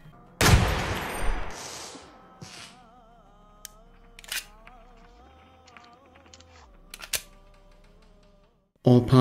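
A handgun fires in Receiver 2 with a loud sharp shot that rings out, followed by mechanical clicks and rattles of handling, a low hum, and another abrupt loud burst at the end.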